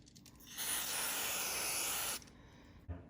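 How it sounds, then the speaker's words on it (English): A steady spray of circuit-board cleaner hisses for about a second and a half, close and loud, then cuts off, followed by a soft click. "You just spray a little bit on there."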